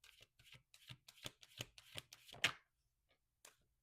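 Oracle cards being shuffled and drawn during a reading: a quick run of crisp riffling flicks, each one separate, ending in one louder snap, then a short pause and a final soft tap, close up and alone.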